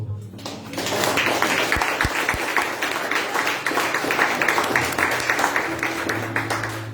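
Church congregation at a worship service applauding, a steady wash of clapping under a sustained background tone, with a few low thumps early on.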